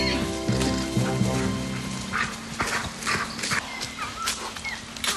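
A stallion and mares mill about a pasture, with close hoof thuds and soft snorting and nickering heard over a steady hum of background sound.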